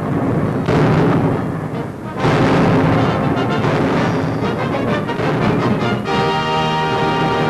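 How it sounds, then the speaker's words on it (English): Artillery fire at Guadalcanal in 1942, heard on an old newsreel track: loud, dense booms and rumbling blasts that roll on continuously with repeated heavy bursts and little pause. "Artillerymen back up the infantry, blasting the Japs from the island."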